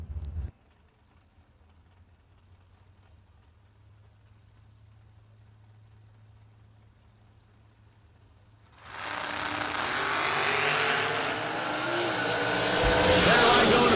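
A Hellcat Power Dragster at a drag strip idles with a low, quiet engine rumble, then launches around the ninth second into a loud, roaring full-throttle run that holds to the end.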